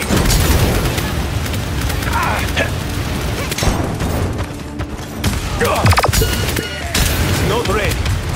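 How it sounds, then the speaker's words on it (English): Gunfire in the Paladins game comes as bursts of shots and booming impacts scattered through the stretch, loud and close, with a voice talking over the fighting. "They're firing on me!"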